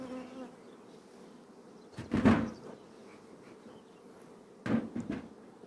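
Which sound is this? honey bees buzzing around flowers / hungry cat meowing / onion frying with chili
honey bees buzzing around flowers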